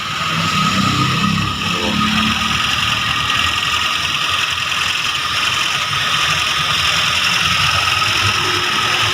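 A 1994 Suzuki Katana DX idles steadily close by, a smooth, even engine hum with a faint mechanical ticking, loud and unbroken throughout with no talking.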